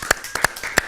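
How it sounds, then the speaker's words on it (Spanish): Three sharp, separate claps spaced evenly apart, close and crisp, with no talking. "fuerte aplauso."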